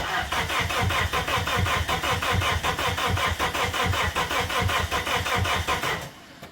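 An abandoned Plymouth Neon engine cranks with a steady, rapid starter chug at close range, turning over continuously for about six seconds without catching before cutting off.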